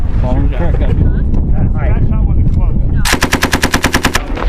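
Rapid automatic fire from an M240B machine gun and Mk-19 grenade launchers at a U.S. Marines live-fire range, arriving as a loud, evenly spaced burst of roughly a dozen shots after several seconds of talk and wind.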